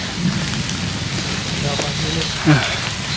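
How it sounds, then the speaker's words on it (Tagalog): Steady rain falls on an outdoor route near a rambutan tree, a dense hiss under a dull patter, with a brief voice or call cutting through near the end. "Nabot kaming ulan."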